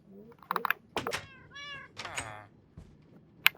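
Several short Minecraft cat meows in the game, a few spaced calls across a few seconds, fairly close, with a sharp click near the end and no talking.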